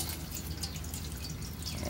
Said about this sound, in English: We're going to put in a little water.